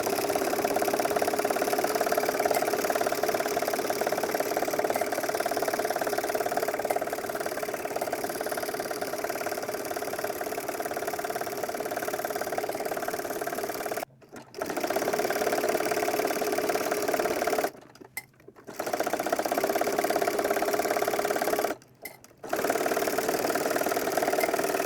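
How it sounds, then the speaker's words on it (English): Sewing machine stitching a side seam on a garment, a steady whirring drone that runs continuously, briefly stops three times near the end and then resumes, with no voices. "Go ahead and sew the side seam."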